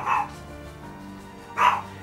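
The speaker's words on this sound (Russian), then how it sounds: "Собака-балабака, все лают, все просят." A dog in a kitchen barks twice, two short, sharp, fairly loud barks separated by a pause of about a second and a half, with faint background room noise between them.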